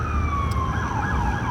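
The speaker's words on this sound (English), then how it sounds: "gonna wait till these sirens stop." Emergency vehicle sirens wail loudly and continuously, their overlapping sweeping tones gliding up and down close by against a steady low rumble of traffic.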